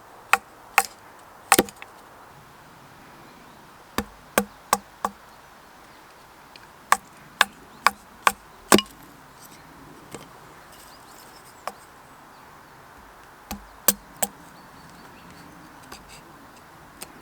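Axe blows splitting firewood in a chopping session outdoors: sharp, loud individual chops scattered irregularly across the clip, sometimes in quick clusters of two or three, with quiet gaps between and no talking.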